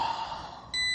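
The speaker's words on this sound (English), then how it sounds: "Sorry, there's a beep." An electronic beep cuts in abruptly near the end of a short stretch of outdoor background noise, a steady high tone that holds to the close.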